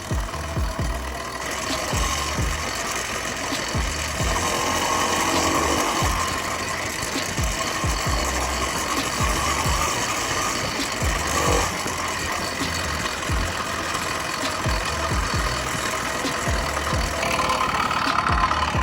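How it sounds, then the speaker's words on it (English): A small motorized bicycle engine on its first day of running chugs with a steady mechanical clatter and rattling, close by, fairly loud and continuous, with no voices. "I'm not trying to push the engine too hard, it still needs to break in."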